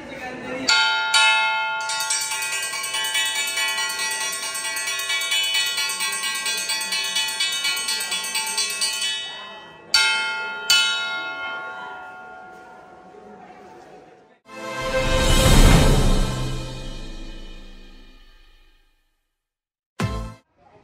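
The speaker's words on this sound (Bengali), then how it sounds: "ট্রেন আসার আগে যে ঘন্টাটি দেয়" A railway station bell is struck rapidly and continuously for several seconds before a train arrives, giving a bright, sustained metallic clang. A few separate strikes and a burst of noise follow. Faint speech is present.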